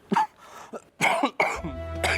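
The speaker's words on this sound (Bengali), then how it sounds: "কাশিটা খুব যন্ত্রণা দিচ্ছে।" A feverish man coughing, a few harsh cough bursts separated by short pauses, close and clear, with faint background tones at the end.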